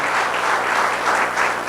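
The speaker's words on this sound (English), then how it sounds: "a big round of applause" A crowd applauds loudly at an entrepreneurship anniversary celebration in Hyderabad. Many hands clap at close range in a thick, unbroken roar that swells slightly toward the end.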